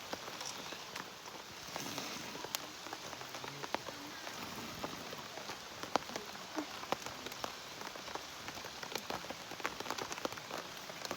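Steady rain patters on a surface, with scattered drops ticking sharply throughout; continuous and moderately quiet, with no voices.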